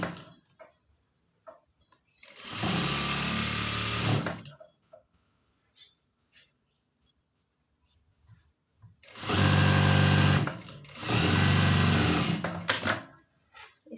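A sewing machine runs a stitch along the edge of a blouse lining in three loud, steady bursts of a few seconds each, separated by quiet gaps with faint handling sounds.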